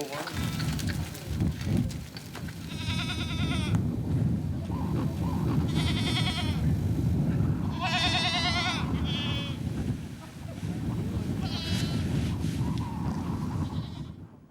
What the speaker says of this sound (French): c'est rien, c'est un mouton, ça